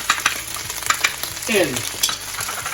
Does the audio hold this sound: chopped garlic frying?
yes